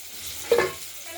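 Catla fish fries in oil in a kadai, a soft steady sizzle with one brief stirring clatter midway, close and quiet.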